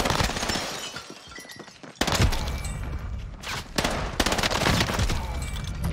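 A STEN submachine gun fires in Warzone on Rebirth Island, loud rapid bursts of close automatic gunfire broken by short pauses, with sharp impact cracks mixed in.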